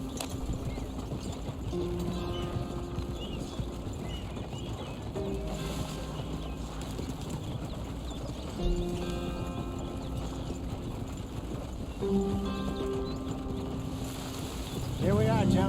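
Horse hooves clip-clop steadily through a Red Dead Redemption 2 game scene, moderately close, beneath a layer of music and ambient wind, with a few brighter accents at intervals.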